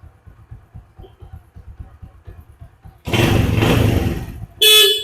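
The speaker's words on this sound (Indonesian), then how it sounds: "Klakson juga." Low engine idle of a 1997 Honda Win 100 motorcycle putters, then its horn blares loudly for over a second, followed by a second short, sharp honk.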